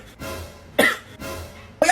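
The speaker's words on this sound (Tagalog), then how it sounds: "Umuubo lang naman ako." A person coughs twice in short, harsh bursts about a second apart, close and loud, with a quieter breathy rasp between them.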